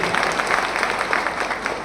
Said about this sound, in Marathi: या जोरदार टाळ्या वाजवा सरांसाठी